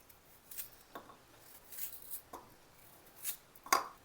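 A knife cuts taro root into medium pieces, giving a handful of soft, separate cutting sounds spaced about a second apart, quiet and close, with no talk.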